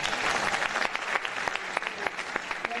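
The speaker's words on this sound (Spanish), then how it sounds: "Un aplauso." An audience at a Spanish-language conference panel breaks into applause, a dense, steady patter of many hands clapping close by for a few seconds, with no voices over it.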